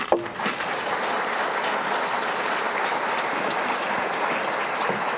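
Steady, dense applause from a comedy audience fills the room for Nora Hamzawi, loud and continuous from start to finish with no break.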